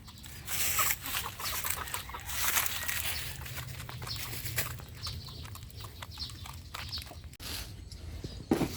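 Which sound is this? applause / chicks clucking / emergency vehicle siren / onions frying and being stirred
chicks clucking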